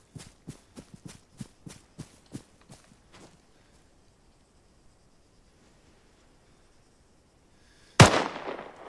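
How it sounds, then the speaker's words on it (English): Arma 3 video game: a fading run of quick, light rhythmic taps gives way to a few seconds of near silence, then a single loud, sharp rifle crack rings out with a trailing echo. "when I fire my rifle, you go"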